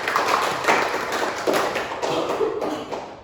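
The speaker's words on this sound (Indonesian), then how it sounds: "Tepuk tangan untuk Elizabeth." A class of students applauds for a classmate named Elizabeth during a microteaching lesson, a steady patter of clapping from many hands that holds for a few seconds at moderate loudness.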